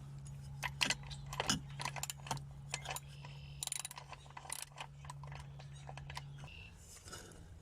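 A socket wrench ratchets in short bursts of clicks while loosening a 5/8 nut inside the lower unit of a Mercury 70 hp outboard during water pump work, close and fairly quiet over a steady low hum.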